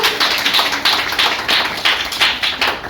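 An audience at a school award ceremony in Fatuha claps for Raunak. Rhythmic, evenly paced group clapping keeps a steady beat at moderate loudness for a few seconds, with no talking.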